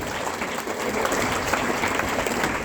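Audience applause at a motivational speech event in Trichy, a dense steady wash of clapping from a large crowd, loud and continuous throughout.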